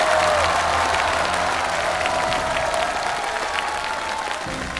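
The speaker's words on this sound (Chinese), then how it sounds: "让我们再一次把掌声送出我们最美好的祝福" An audience applauding at an award ceremony for a world model pageant final, dense sustained clapping from a large crowd, steady and loud, tapering slightly at the end.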